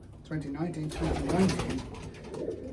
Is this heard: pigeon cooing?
yes